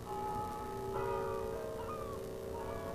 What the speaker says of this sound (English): with thy bells of Shandon, that sound so grand